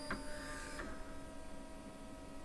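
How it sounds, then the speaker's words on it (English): A car-themed 3D printer slowly lowers its probe onto the bed to touch each nozzle in turn, giving a faint motor whine with a couple of soft mechanical shifts over a steady low hum. "So it very gently goes down and touches each nozzle, and it should do all of them in order."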